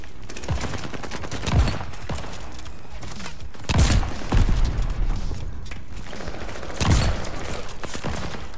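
An STG44 assault rifle hip-fired in Call of Duty Vanguard, heard as rapid automatic bursts with sharp cracks and punchy low thumps that repeat in several strings, close and loud.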